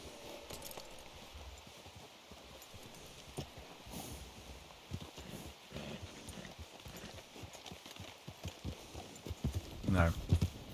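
Horse hooves clip-clop steadily at a walk in the Red Dead Redemption 2 game world, low and continuous beneath a voice and ambient sound, growing busier and louder near the end.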